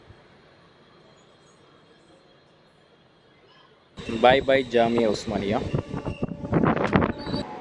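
A Kachiguda–Nadikudi DEMU train rumbles faintly and steadily, then a loud voice speaks over the continuing hum of the carriage.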